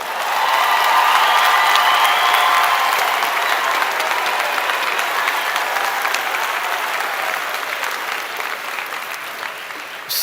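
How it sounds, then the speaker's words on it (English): A large graduation audience for medicine and health sciences graduates bursts into loud, sustained applause mixed with scattered cheering, peaking early and gradually easing over about ten seconds. "Let's cheer them again."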